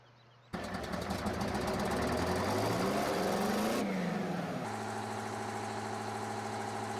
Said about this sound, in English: I could turn down the tractor sounds.